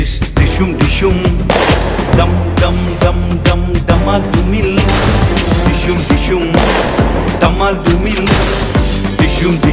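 Rapid gunfire sound effect, machine-gun style bursts mixed into loud, continuous music for a church VBS dance number, staying dense and punchy throughout without any talking.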